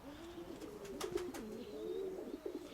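Pigeons cooing in a backyard, a low, rolling coo repeated close by, with a few sharp taps or flutters mixed in against a quiet outdoor background.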